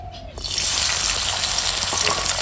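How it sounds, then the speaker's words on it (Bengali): Chopped onion dropped into hot oil bursts into a loud, steady sizzle after a brief quieter start, the frying hiss dense and continuous throughout, close up with no talking. "এবার তেলের মধ্যে একটা পেঁয়াজ কুচি দিয়ে দিচ্ছি"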